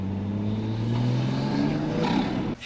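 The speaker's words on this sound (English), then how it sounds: "Wanna hear the turbo?" A turbocharged car engine revs up close, a loud rising drone climbing steadily in pitch before cutting off abruptly near the end.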